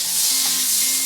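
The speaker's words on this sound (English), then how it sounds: "Now I'm going to saute the celery, mushrooms, and onions." Margarine sizzling in a hot frying pan on the stove, a steady close-up crackling hiss with no voices over it.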